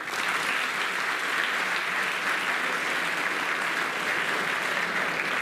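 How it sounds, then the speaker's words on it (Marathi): Steady, loud applause from a large audience at a Quick Heal Cyber Warriors Club cyber-awareness event, a continuous wash of clapping for the whole stretch with no voices standing out. "तुमच्याकरता जोरदार टाळ्या"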